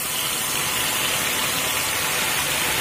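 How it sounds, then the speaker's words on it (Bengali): Spice tempering frying in hot oil in a pan, a loud, steady, close sizzling hiss that holds unbroken throughout, with no voices. "ফোড়নটা একটু ভাজা হতে দেব"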